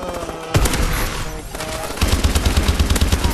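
Rapid automatic gunfire from a Call of Duty game, loud dense bursts with the shots becoming a steady fast rattle in the second half, no talking.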